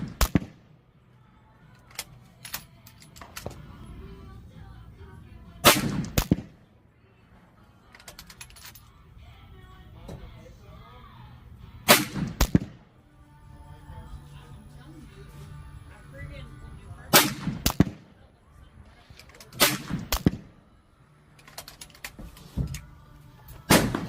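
Sharp rifle shots from a Winchester Model 70 firing 95-grain Hornady SST handloads at a range ring out, about eight loud cracks in irregular pairs and singles spread over time, with quiet handling noises between them.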